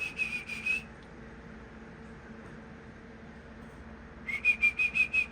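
A person whistles short repeated notes in quick bursts, first at the start and then again after a quiet pause, close by over a faint background hum.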